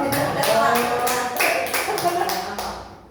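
Scattered claps from a small school audience at an SLBN 11 Jakarta meeting, uneven and fairly close, with voices talking and laughing over the clapping through most of it.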